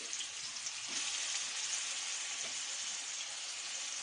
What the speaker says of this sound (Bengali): কোকোনাট অয়েলের ওপরে পেঁয়াজ কুচি দিয়ে দিলাম